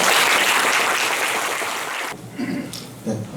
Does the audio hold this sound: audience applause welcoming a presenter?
yes